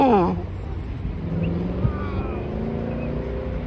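A McLaren 720S twin-turbo 3.8-litre V8 supercar passing on a city street in Sandton, a steady engine drone with a rising, sweeping tone near the start, heard from the roadside over wind noise.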